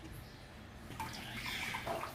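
Meat being washed by hand in water with lemon, giving soft continuous splashing and sloshing that grows slightly busier partway through, faint and close.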